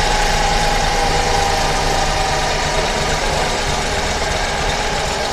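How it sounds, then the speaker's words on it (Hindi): A damaged car engine idles unevenly and misfires, a steady close mechanical rumble with knocking vibration running throughout without any talk. "इंजन एक तो मिसफायरिंग टाइप कर रहा है"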